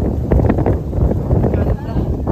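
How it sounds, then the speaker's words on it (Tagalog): Wind gusting outdoors in a park, buffeting the microphone with a steady low rumble throughout, with voices talking over it. "Uy, windy pa naman."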